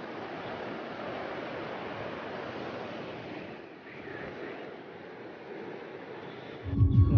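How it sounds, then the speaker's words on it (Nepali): A snowmelt stream rushes steadily near Tandi bridge on the road from Manali to Triloknath, a broad continuous roar with wind buffeting the microphone at the end. "माथि हिउँ पग्लेर आएको पानी हो यो"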